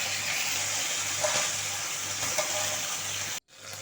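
Chicken liver frying in oil gives off a steady, dense sizzle, close and even throughout, then cuts out briefly near the end before resuming.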